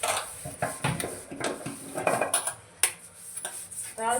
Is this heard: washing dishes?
yes